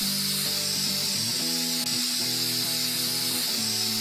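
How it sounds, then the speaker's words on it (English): Spray adhesive hisses steadily from a can onto a model railroad scenery tree, a continuous close broadband spray with a faint tonal hum beneath it and no talking. "we're going to go ahead and shoot it with a heavy coat of spray adhesive"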